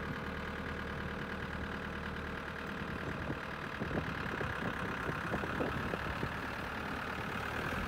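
A tractor engine running on 100% biodiesel made from beef and pork waste fat, a steady close idling drone with a slight rough knock that continues unbroken throughout.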